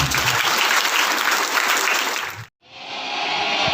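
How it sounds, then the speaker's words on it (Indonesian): A crowd at an Isra Mi'raj commemoration claps loudly and steadily, breaks off abruptly for a moment, then resumes with dense applause. "Tepuk tangan."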